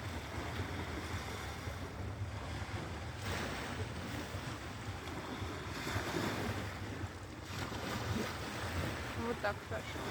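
Sea surf washing ashore at night on a Cyprus beach, a steady broadband wash with rolling swells and some wind buffeting the microphone, continuous and fairly close.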